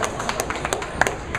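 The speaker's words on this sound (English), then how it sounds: "Well-deserved applause for that." Scattered clapping from a bowling alley crowd at a scratch tournament final, a handful of quick taps and claps spread across a short burst over steady background noise.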